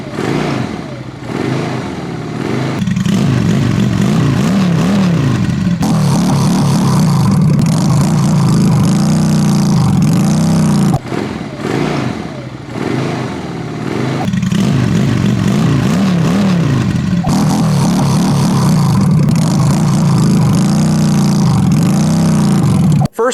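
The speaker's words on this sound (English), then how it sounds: "you can hear the extreme difference in the sound between these two sets of exhaust" A motorcycle with a cheap aftermarket exhaust revs repeatedly, rising and falling in loud, throaty bursts with a deep rumble between them, close by.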